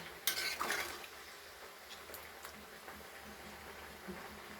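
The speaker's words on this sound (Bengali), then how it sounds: "এঁচোড় রান্না হচ্ছে" A pot of green jackfruit curry is stirred, with a few sharp metallic scrapes and clinks of a spoon against the pot early on, then softer scattered taps over a low simmering background.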